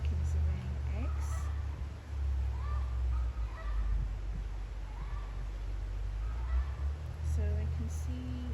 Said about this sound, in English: the chickens are very, very noisy.